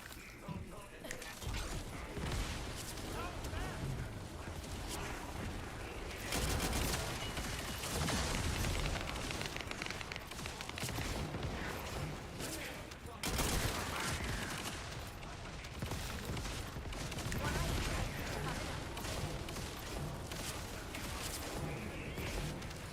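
Rapid weapon fire in The First Descendant game runs as dense, continuous bursts of shots, impacts and mechanical clatter across the whole stretch, loud and busy, with a player talking at times.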